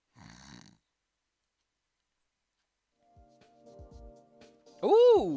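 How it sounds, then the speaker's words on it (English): A video game character snores in Snoot Game: a short rasping snore at the start, then a quiet gap, faint clicks and a hum, and a loud, pitched vocal sound at the end. "Fang's already starting to snore right into my ear."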